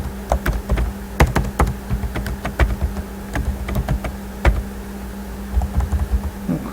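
Keys clatter on a computer keyboard in quick irregular bursts of close, crisp taps with brief pauses, over a low steady hum, with no talk.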